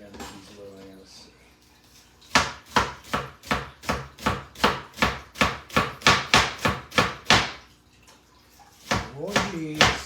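Small onions chopped with a sharp knife on a board, a run of about fifteen crisp, close knocks in a quick, fairly even rhythm, with a voice talking before and after.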